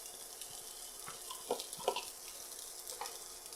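Spam and egg fry in a pan for fried rice, a quiet sizzle with a few sharper spatters and stirring scrapes in the middle, no talking.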